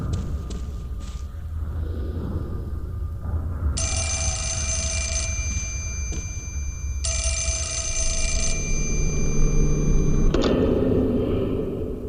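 An old-style telephone rings twice in the horror game Fatal Frame: Mask of the Lunar Eclipse, two long bright bursts separated by a pause over a low eerie ambient rumble, followed by a brief clunk.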